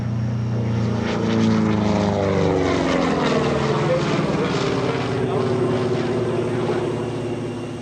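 A Republic P-47D Thunderbolt's radial engine roars loud and close at an air show, with a deep propeller drone whose pitch shifts as the aircraft passes and then slowly fades.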